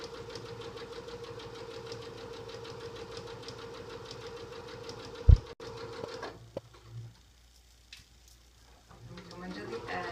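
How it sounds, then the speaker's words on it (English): A sewing machine stitches across the bottom of a pillow with a steady mechanical chatter that runs for several seconds, then stops with a sharp knock, leaving quieter handling noises and near-silence. "I'm just going to eyeball and sew across the bottom"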